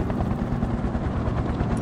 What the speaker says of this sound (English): Man, yeah, that's a helicopter.